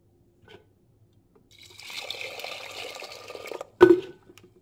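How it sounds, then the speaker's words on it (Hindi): Water is poured into half a kilo of washed pigeon pea lentils (arhar dal) in a pot, a steady splashing trickle lasting about two seconds, followed by a sharp clunk as the vessel is set down. "अब हम इसमें पानी डाल देंगे थोड़ा।"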